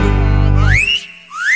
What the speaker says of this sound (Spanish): cuando caminas todos te silban sin parar